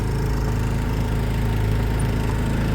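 A motorbike engine idles nearby with its automatic choke on, a steady, even low hum that holds constant throughout.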